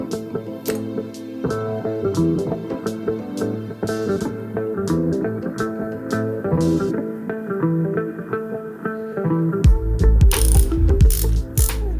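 Rapid ratchet clicking comes from a hand ratchet installing spark plugs on a custom BMW R80 motorcycle, with close, continuous pawl ticks and a brief louder clatter near the end.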